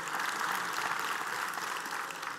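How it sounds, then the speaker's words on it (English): A church congregation claps their hands during a sermon, a dense, even wash of clapping that stays steady and moderately loud throughout. "If you believe it, clap your hands together and praise him today."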